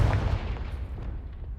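Confringo fire spell cast in Hogwarts Legacy bursts with a deep booming blast at the start, its low rumble trailing off over about a second and a half.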